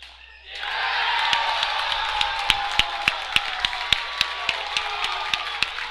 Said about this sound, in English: with the home crowd just about at the edge of their sanity